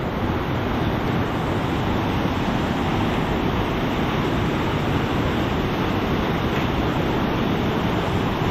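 Rushing floodwater after Typhoon Uwan, a loud, steady broadband roar filling the whole stretch without pause, no voices.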